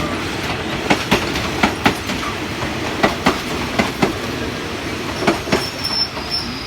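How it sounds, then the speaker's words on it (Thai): GEA 4556 locomotive hauling rapid train 112 into Bang Sue station in Bangkok at festival time, with a loud, steady clickety-clack of wheels over rail joints and a brief high wheel squeal near the end. "หนึ่งหนึ่งสองเด่นชัยกรุงเทพนะฮะเข้าจอดสถานีบางซื่อนะครับ"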